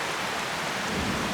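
Rain falls heavily during a thunderstorm in a garden, a dense steady hiss of drops hitting surfaces with no pauses, loud and close throughout.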